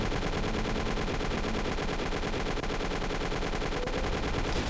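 Rapid bursts of video game gunfire from an AK-74, dense continuous automatic shooting with a harsh, loud, steady texture and no talking.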